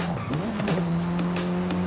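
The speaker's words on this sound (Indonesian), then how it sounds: "Kalau lagi ngegas gini terus kita rem ada bunyi-bunyi gini, guys." Tire squeal from a car braking hard in the Forza Horizon 5 racing game, a sustained pitched screech that bends and then holds steady over a continuous engine drone, loud and close throughout.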